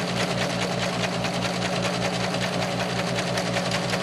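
Sewing machine running steadily while stitching a seam for a homemade tank top, a continuous close mechanical whir with rapid even needle pulses and no pauses.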